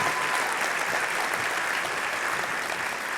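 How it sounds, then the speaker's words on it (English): Steady audience applause at a college convocation ceremony for project management graduates; dense even clapping from a large crowd, continuous and moderately loud, with no talk. "please give a round of applause for the graduates from the Project Management Program"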